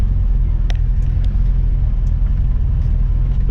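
A 1934 Chevrolet Cabriolet drives along with a loud, steady low engine rumble and drone heard from close up, with a few faint ticks above it and no talking.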